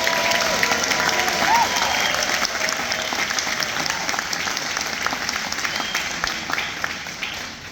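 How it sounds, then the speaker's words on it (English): An audience applauds steadily, a dense wash of many hands clapping that gradually fades a little toward the end. "let's give them all a big hand of applause"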